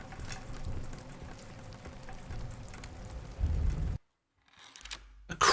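Steady rain patters and hisses in the video game Crisol: Theater of Idols, a dense even wash that drops out suddenly near the end, followed by a few faint sounds and a brief loud burst.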